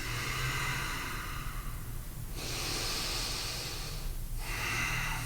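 Deep breathing during a hip stretch, a long slow hissing inhale followed by a steady exhale and another breath, close and airy over a constant background hiss.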